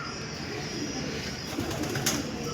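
Pigeons coo in the grounds of the Birla Vitthal Rukmini temple, soft rounded calls rising over a steady outdoor hum, with a brief flutter of sound near the end.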